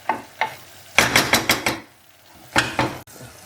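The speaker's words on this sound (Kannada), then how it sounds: "ಇದೆಲ್ಲ ಗ್ರೈಂಡ್ ಮಾಡಿ ಹಾಕ್ಕೊಳ್ಳಿ. ಚೆನ್ನಾಗಿ ಹುರ್ಕೊಳ್ಳಿ ಇದನ್ನು. ಫ್ರೈ ಆಗಲಿ ಒಟ್ಟು." Ground ginger and garlic paste frying in a pan for methi pulao, short bursts of sizzling with clattering stirring strokes, close and fairly loud, with quiet gaps between bursts.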